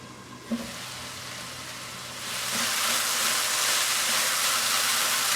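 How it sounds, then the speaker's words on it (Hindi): Chicken cooks in a covered pan over a medium flame, a soft hiss that swells into a steady, louder sizzle partway through, with no one speaking. "इसको 2 मिनट कवर करके पका लेते हैं मीडियम आंच पे,"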